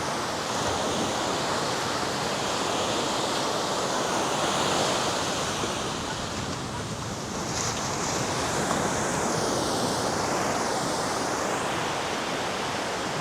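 Ocean surf washes continuously onto Nai Harn Beach in Phuket, Thailand, a broad steady roar of breaking waves mixed with wind noise, with no voices.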